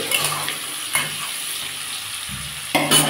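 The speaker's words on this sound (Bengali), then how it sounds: "এর মধ্যে পেঁয়াজ আর লঙ্কা দিয়ে দেবো" Onion and chilli going into a pan of frying noodles, a loud close sizzle with hissing bursts as pieces drop in, and a fresh surge of frying near the end.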